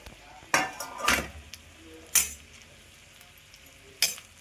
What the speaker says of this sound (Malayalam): നന്നായി വറുത്തെടുക്കണം ഈ വറവിലാണ് കൂട്ടാൻ ടേസ്റ്റ് ചെയ്യണം